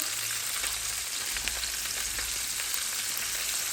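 Cumin fries in about half a cup of oil, a dense, steady sizzle and crackle with faint scattered pops, continuous and close, with no voices.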